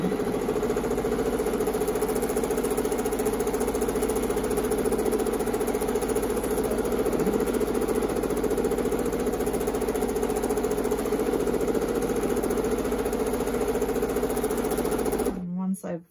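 A sewing machine stitches between fabric quilted rocks, whirring in a steady, close, continuous run for about fifteen seconds before stopping abruptly.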